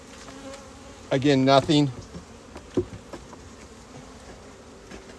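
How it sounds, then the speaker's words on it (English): Upset honeybees at a hive in February during an inspection give a short, loud buzzing burst of about a second, then drop back to faint buzzing. A voice speaks briefly near the start. "These bees are a little upset."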